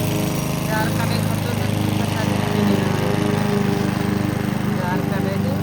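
A hand-pushed grass cutting machine cuts weeds on open ground, its motor droning steadily and close with a low buzzing hum throughout, while someone talks over it.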